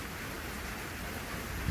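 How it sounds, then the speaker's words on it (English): Rain falling outside a front porch in Oklahoma, a steady, soft hiss of rainfall with no breaks. "We have rain today."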